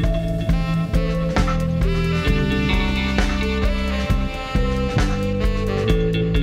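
Full band mix of guitars, saxophone, bass and drums playing together, steady and moderately loud with rhythmic drum hits and sustained tonal layers, no voices.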